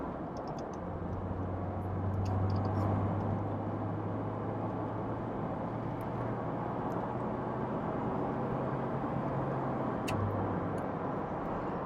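Volvo 480 accelerating on an open road past the national speed limit, a steady engine drone with a low tone rising slightly around two seconds, heard from inside the cabin with road noise and no talking.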